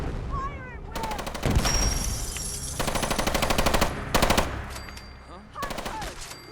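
Rapid automatic gunfire in Fallout 4 VR as defenders fight off creatures from the fog, loud bursts of machine-gun fire in several long volleys with brief gaps and shouting voices between them.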